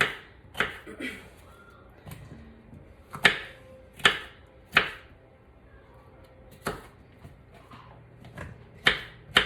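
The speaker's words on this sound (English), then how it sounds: "Same thing with the bottom, cut them up into some strips." Knife chopping bell peppers into strips on a cutting board: a dozen sharp, irregularly spaced chops ring out close and clear, with a few softer knocks between them and no talk.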